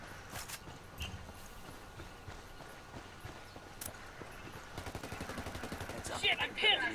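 Video game gunfire pinning a player down, scattered shots and impacts through a busy mix of footsteps and movement, growing denser and louder toward the end, with voices in the background.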